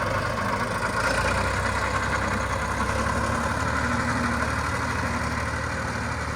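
A tractor engine runs steadily while spraying a soybean field, a constant low, rumbling drone with mechanical vibration, close and unchanging, with no talk over it.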